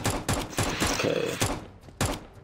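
An unsuppressed gun fires in the video game CS:GO, a rapid series of sharp, loud shots in bursts with brief gaps between them.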